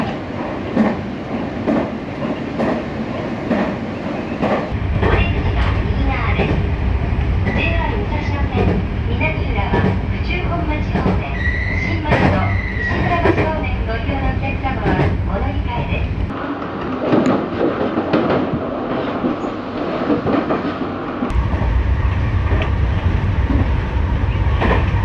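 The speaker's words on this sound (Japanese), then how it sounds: "この電車は急行久喜行きです。" A Tobu line express train runs on the rails with a steady loud rumble and rhythmic wheel clatter, heard from inside the carriage under an onboard announcement.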